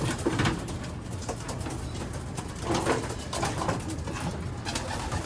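Pigeons coo repeatedly in soft, throaty bursts close by, layered over a steady background rustle and murmur.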